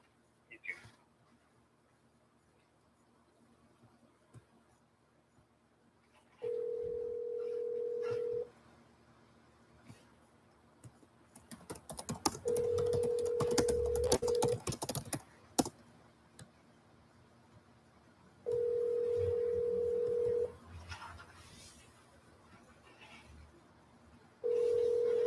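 A telephone on a live cold call to a property owner gives repeated ringing tones, each about two seconds long with pauses between them, and a burst of clicking and line noise comes in the middle.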